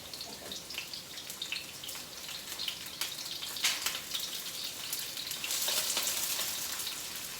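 Chopped onion sizzles and spits in hot olive oil in a pan, with a steady frying hiss that swells toward the end, close and moderately loud with occasional stirring scrapes.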